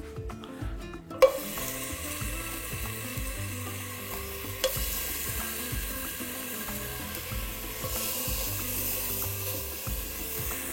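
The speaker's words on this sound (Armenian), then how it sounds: "Տապակում ենք։" Layers fry in olive oil seasoned with tomato, giving a steady close sizzle with a sharp clack near the start and soft stirring or shifting sounds underneath.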